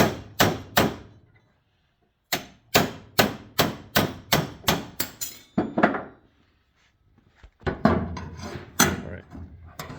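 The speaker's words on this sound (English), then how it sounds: "by hammering on the vise, he got it to bend just like that" Sharp metallic hammer blows on a metal panel held in a vise ring out in two bursts, a quick pair then a steady run of about eight strikes, followed by scattered clanks and handling noise.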